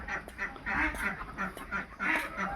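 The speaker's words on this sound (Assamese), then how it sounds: "এয়া হাঁহ মুৰ্গী," Ducks quacking on a large poultry farm, several birds calling in quick overlapping rhythmic bursts, fairly near and moderately quiet, with no talk over them.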